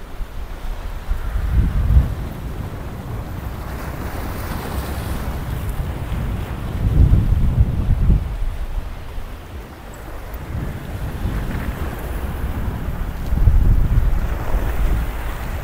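Waves surge and wash along a Maldives island beach in a strong current, swelling in repeated rushes amid heavy wind buffeting the microphone.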